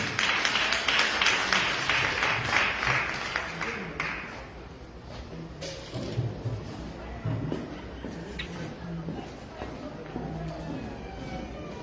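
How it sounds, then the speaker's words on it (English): Applause from a crowd at a live event in Boston, loud dense clapping for the first few seconds that fades into quieter scattered claps and room noise, with voices talking over it. "Another round of applause to Dr. John"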